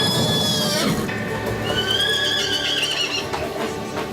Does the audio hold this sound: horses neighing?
yes